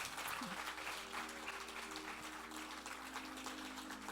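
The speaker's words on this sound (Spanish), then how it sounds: "Dale un aplauso al Señor." A church congregation applauds the Lord at a Sunday service, with dense, continuous clapping that holds steady throughout, fairly distant and roomy.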